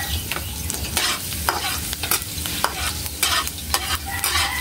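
Ground pork with garlic is stirred in a frying pan over a constant sizzle, the spatula scraping in quick repeated strokes close up, with no voices.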